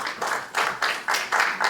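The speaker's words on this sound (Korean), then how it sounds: "박수로 맞아주시기 바랍니다" Audience applause welcoming a speaker to the stage at a university presidents' summit in a conference hall, steady clapping in a few rhythmic swells, moderately loud and without voices.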